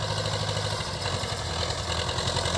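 A Rusi 510 tractor engine idles steadily with a low, even rhythmic throb, close and continuous, among tractors parked in a line, with no talking.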